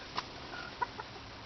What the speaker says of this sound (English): There's my hen.